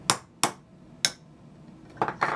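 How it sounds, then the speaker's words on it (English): A hammer drives a nail through the top of a lid, three sharp metallic strikes at a steady rhythm followed by two quicker taps, close and loud with nothing else heard. "So I've got a hammer and I've got a nail."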